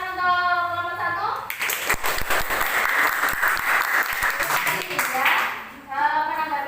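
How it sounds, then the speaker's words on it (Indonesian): Classmates applauding group 1 in a classroom, a burst of clapping from a room of students that rises after talk and fades as voices return. "Beri tepuk tangan untuk kelompok 1"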